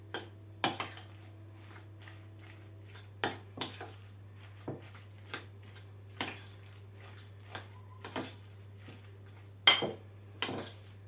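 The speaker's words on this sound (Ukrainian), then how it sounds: "Так, зараз я їх помішаю." Pie filling of cheese and mushrooms with egg being stirred in a bowl, scattered clinks and taps of a utensil against the dish over a low steady hum, close and quiet.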